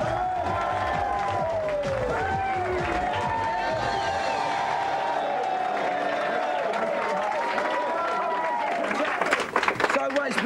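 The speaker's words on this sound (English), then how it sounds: "Please give a big cheer and a big warm welcome to Two Unlimited." A television game-show studio audience cheers and applauds in a sustained, dense wash of clapping and shouts that holds steady for several seconds, with a voice heard over it.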